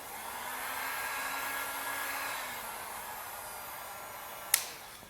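A heat gun blows on vinyl headlight tint film to warm it and relax the edges, producing a steady airy whoosh that slowly fades, followed by one sharp short click near the end.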